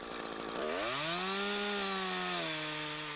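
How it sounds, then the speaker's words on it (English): A chainsaw bites into a tree trunk for the felling cut, its engine surging from a rough idle to a loud, steady high-revving whine that holds close and strong, then eases slightly near the end. "Now it's time for the felling cut."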